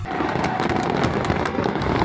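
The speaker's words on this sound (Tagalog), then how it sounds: "Nanghunong mi tay kay nindot ki ang fireworks." Fireworks burst and crackle continuously at a street party during the Sinulog festival in Fuente, a dense, steady barrage of pops and rumbling booms heard from moderately near, with crowd noise underneath.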